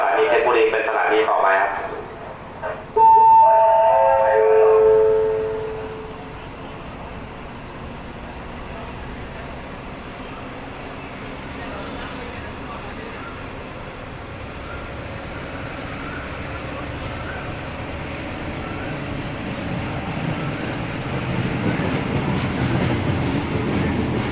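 A passenger train pulls out of Ratchaburi railway station in Thailand, its horn blowing loudly at the start before a steady, moderately loud rumble of wheels and carriages continues and slowly grows, with someone talking over it.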